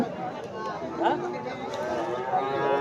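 Friesian cattle at the Monday village cattle market in Gomgram low and shuffle amid steady crowd chatter, with people talking nearby throughout.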